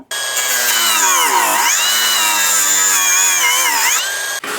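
A power tool whines as it cuts through an HDF board during an inverter installation, one loud, close, sustained high-pitched run with its pitch dipping under load midway and again near the end, then stopping abruptly.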